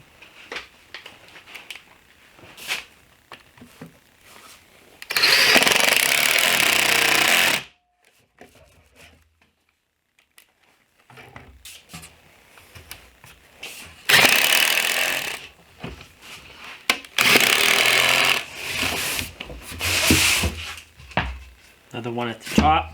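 A power drill drives 1.25-inch pocket hole screws into a wooden nightstand face frame in three loud, sustained whirring bursts, with quiet pauses and a voice talking between them.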